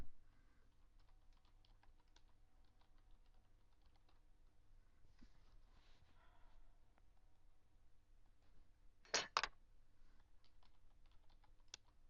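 Soft keystrokes tap out a command on a computer keyboard, quick irregular clicks close by in a quiet room, with a brief louder burst of keys near the end.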